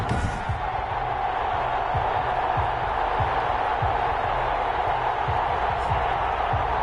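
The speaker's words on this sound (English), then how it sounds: "This crowd is ready as their guys get set to match up" Stadium crowd roaring before a football game between the London Monarchs and Toronto Mounties, a dense, steady wash of distant cheering that runs unbroken throughout, with faint thumps beneath.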